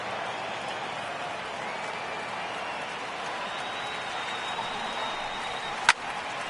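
A stadium crowd in the baseball video game MLB The Show 18 applauds with a steady, dense wash of clapping and cheering that holds throughout, with a single sharp crack near the end.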